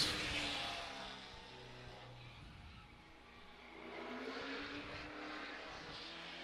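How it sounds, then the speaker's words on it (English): A race car on a qualifying lap at Madera Speedway, its engine droning from a distance and swelling then fading as it circles the oval, fairly faint overall. "Getting through turns 1 and 2, squealing the tires."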